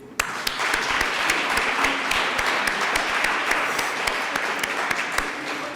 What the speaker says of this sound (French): Vous allez les reconnaître avec un ruban jaune et on les applaudit.